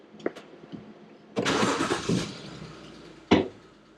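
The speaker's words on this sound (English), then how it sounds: "Let's go and start her up." A car engine cranks briefly and catches at close range during an oil change, then settles into a steady run before a second short burst of revving near the end.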